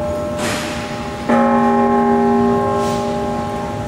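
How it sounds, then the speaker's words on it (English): A church bell rings out once with a strong, clear metallic strike and a long sustained ringing decay, heard fairly close amid quiet background ambience. "there's a bell"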